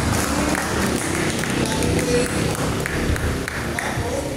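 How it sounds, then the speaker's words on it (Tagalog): A church congregation at an El Shaddai youth prayer meeting in Bulacan claps loudly and steadily, a dense, continuous wash of many hands filling the room with a crowd murmur underneath. "Yung malakas na palakpak at papuri."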